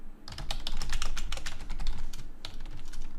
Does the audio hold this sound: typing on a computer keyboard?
yes